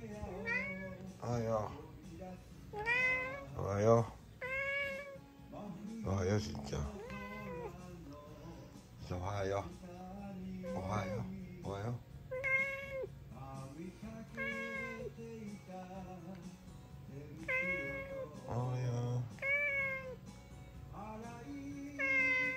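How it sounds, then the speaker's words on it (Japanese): A black cat meows repeatedly in short, rising calls at an irregular rhythm, close by, with a person talking softly throughout. "黒猫しんちゃん黒猫しんちゃん"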